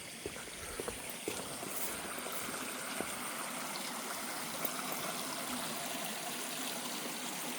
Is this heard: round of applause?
no